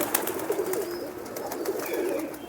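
Domestic pigeons coo in low, rolling calls that repeat close by, with a few soft wing or perch sounds and no voices.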